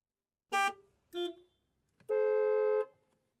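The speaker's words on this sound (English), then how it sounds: "the sound of traffic from outside" Car horns sound from traffic outside: two short honks followed by one longer sustained blast, loud and clear with quiet gaps between them.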